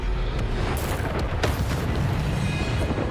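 A Bombarda spell explodes in the Hogwarts Legacy video game, with loud, dense booming bursts and crackling layered over continuous heavy rumble from start to finish.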